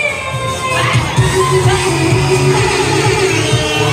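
A bracket group in a crowd at an Our Lady of Fatima event shouting in response to a call, starting quieter and swelling into a loud, sustained mix of yells and cheers with some thumping underneath.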